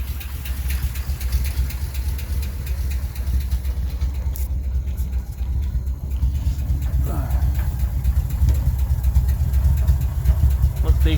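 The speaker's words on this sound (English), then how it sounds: "It's got a little bit of a header leak." A 1986 Dodge 4x4 engine idles with a slight exhaust header leak, a steady, close, continuous low rumble that holds level throughout and builds slightly toward the end.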